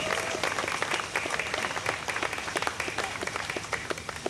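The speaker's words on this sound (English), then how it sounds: "Please give him a round of applause." A celebration audience gives a round of applause for Mayor Koch, steady clapping from many hands with individual sharp claps standing out near the front, continuing evenly throughout.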